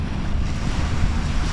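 A wooden long-tail boat with an engine at its stern runs over the sea off an island in Thailand, its steady low engine rumble mixed with wind buffeting and rushing water, loud and continuous.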